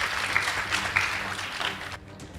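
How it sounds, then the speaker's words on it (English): Applause from an audience at a Nakuru Girls High School versus Upperhill Mixed Secondary School debate, a steady dense clapping that carries on for about two seconds and then drops away abruptly. "Please give them a round of applause."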